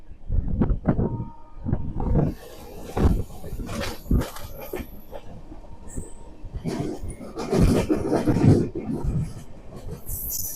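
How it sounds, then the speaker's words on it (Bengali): The Howrah–Secunderabad Gudur Express passes near New Farakka Junction, heard as a rumbling, clattering rush with bursts of wheel and track noise that swell and fade, with a brief high screech. "এটা হচ্ছে হাওড়া সেকেন্দ্রাবাদ গুডুর এক্সপ্রেস।"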